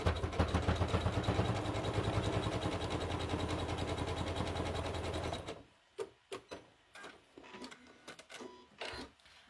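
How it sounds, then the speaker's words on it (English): A sewing machine zigzag-stitches a jelly roll rug made of fabric strips and wadding, running loud and fast with a rapid steady chatter for about five seconds, then stopping, followed by scattered clicks and handling knocks. "I'm just going to zigzag it just to hold it in place"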